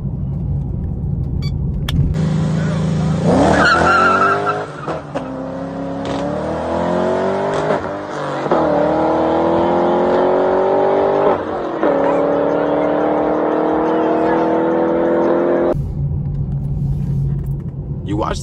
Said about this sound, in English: That Camaro on the left fucking gave that AMG the fucking works.